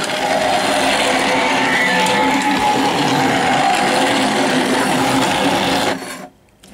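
A Bburago Junior Ferrari LaFerrari toy car gives off a loud, buzzy, rasping motor-like sound effect from its button that runs steadily for about six seconds, then cuts off abruptly.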